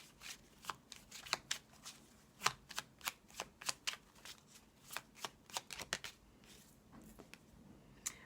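Oracle cards shuffled by hand in a steady run of crisp, close riffling flicks and soft slaps, a quiet sequence of distinct bursts with no talk.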